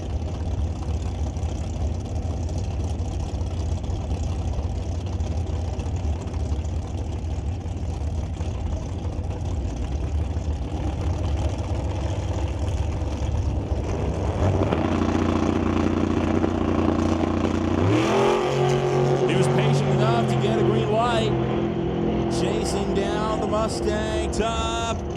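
A drag racing dragster launching at a raceway, foot-braked with no delay box; a steady low engine drone swells into a loud, rising roar with sharp harmonic sweeps as the car pulls away.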